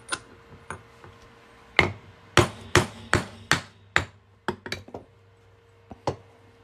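A hammer strikes a metal punch into quarter coin rings in sharp ringing blows, a steady run of about a dozen close, loud hits with short metallic decays and a brief quick cluster near the end.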